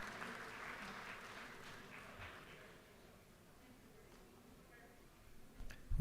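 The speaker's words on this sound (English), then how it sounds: "please rise for us to applaud your presence" Faint, distant applause in a state legislative chamber during a House session, a soft spattering of clapping that thins out over a few seconds before a louder rustle at the end.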